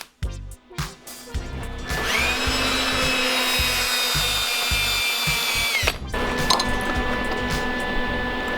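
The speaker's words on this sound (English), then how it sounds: "So we're gonna notch the next one. As in like just grind it. Gonna put a chamfer on it." An angle grinder cuts a notch and chamfer into steel for a homemade 20-ton hydraulic press, spinning up and holding a loud, steady high whine for about four seconds before cutting off, with scraping and clatter before and after.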